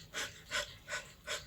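Four slow, deep breaths in a breathing-technique demonstration, each a soft airy whoosh spaced evenly about every 0.4 seconds, close and quiet with no speech.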